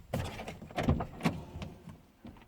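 Door sounds come through close and clear as a series of irregular clunks, knocks and rattles, with short bursts spread across a few seconds and no talking.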